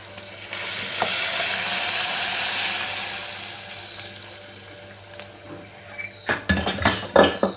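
Cooked dal with bachali (Malabar spinach) leaves tipped into a hot tempering, a sizzle fading slowly, then sharp clatters of a spoon or utensil against the vessel near the end.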